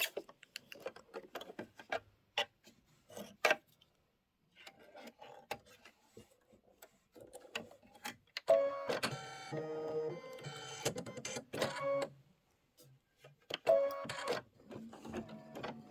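Embroidery machine stitching a flower pot outline, quiet rapid mechanical ticking in bursts with short pauses, then a denser stretch of continuous stitching, close and alone.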